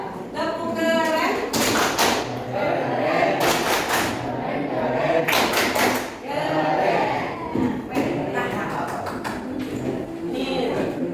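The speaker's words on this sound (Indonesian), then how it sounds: "kalau siap kita tepuk keren dulu" A classroom of students claps a rhythmic chant together, with bursts of sharp, unison claps and thumps mixed with group chanting voices, loud and close in a lively, patterned rhythm.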